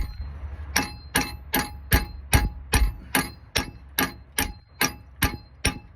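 Steady hammer blows strike an old broken socket used as a punch, about fourteen sharp metallic clangs at an even, unhurried rhythm, close and loud, with a brief spoken word at the start.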